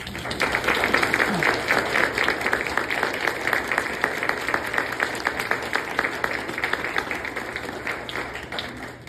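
Steady, sustained applause from an audience at an International Women's Day event for care workers, many hands clapping in a dense, even rhythm throughout.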